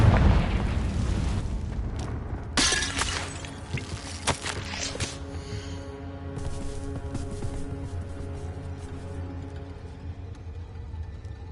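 A Confringo spell explodes in Hogwarts Legacy, a loud booming blast followed by crackling bursts and debris that decay into a lingering rumble.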